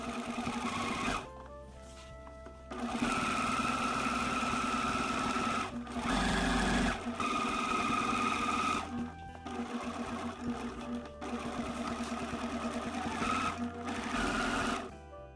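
A sewing machine stitching the side and sleeve seams of a reversible jacket, running in long steady whirring bursts separated by short pauses, close and loud with no talk.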